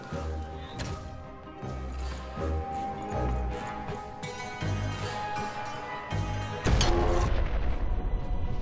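Cannon fire in the Xbox One game Lost In Random, with several heavy booms going off over a busy game soundtrack, the last blast loudest near the end.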